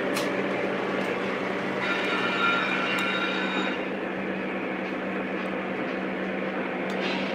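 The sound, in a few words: Lionel model train running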